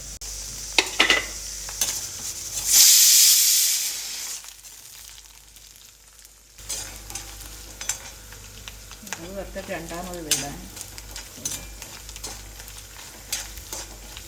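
Coconut pieces browning in a pan for neyyappam sizzle steadily with occasional stirring scrapes. A louder hissing burst comes early, and a voice speaks briefly near the end.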